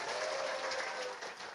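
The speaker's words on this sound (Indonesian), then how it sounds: "Tepuk tangan dulu dong." Loud, dense applause from a crowd of women at an Islamic religious talk in Tunggul Rejo, a continuous close wash of many hands clapping that tapers slightly at the end.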